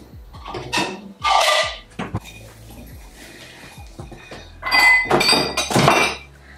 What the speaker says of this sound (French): Maintenant, autour de la vaisselle.